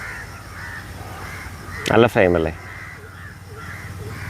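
Crows caw at Moolamattom in Kerala, with two loud, harsh calls in quick succession close by, set against a low steady background while a person speaks briefly.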